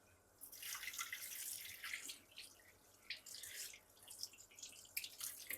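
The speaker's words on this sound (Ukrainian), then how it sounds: "Беремо відразу ось таку миску, вмикаємо таку середню водичку." Tap water runs at a medium flow into a kitchen bowl while preparing beef tenderloin for homemade basturma, a steady close splashing hiss with no talk over it.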